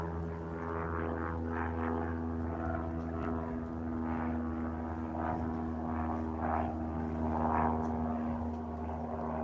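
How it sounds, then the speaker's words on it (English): A propeller airplane flies near Billy Bishop Airport on Toronto's waterfront, a steady droning hum holding moderately loud and fairly distant throughout, with faint outdoor background. "So there's another plane right there."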